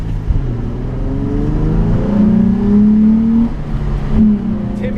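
A car drives past close by on a road in Germany, its engine rising in a steady whir and rev that swells over several seconds and then fades, loud and alone with no talking.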